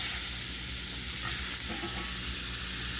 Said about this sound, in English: I got a whisk now, just silicone whisk.